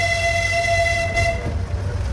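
A miniature railway train built in 1931 runs at Scarborough, sounding sustained steady toots over a low rumbling run, close and fairly loud, with the tone cutting off partway through.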